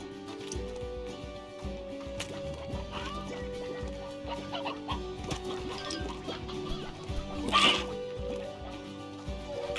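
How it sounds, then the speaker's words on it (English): Chickens and roosters cluck in the video game Slime Rancher, a busy layer of short clucks over faint game music, with one brief louder squawk partway through. "there's a lot of chickens here. Roosters."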